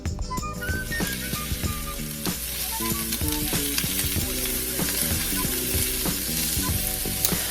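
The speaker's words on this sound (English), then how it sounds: "put some little bit of olive oil into my pan and get that heated up and start sauteing my vegetables" Vegetables sauté in hot olive oil in a pan, giving a steady, close sizzle and crackle that runs unbroken throughout while music plays underneath.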